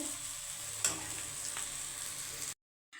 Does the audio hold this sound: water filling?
no